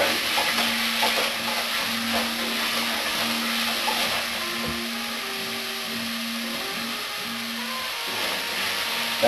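Minced beef browning in a frying pan for cottage pie, a steady broadband sizzle running throughout with occasional stirring scrapes and a low hum beneath, no talking.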